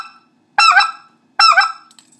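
Two loud, close honking notes from a speck goose call, the T-hit call used for specklebelly geese, each a sharp, wavering, two-part honk, separated by a short pause and heard alone.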